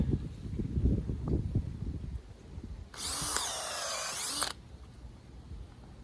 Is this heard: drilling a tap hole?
yes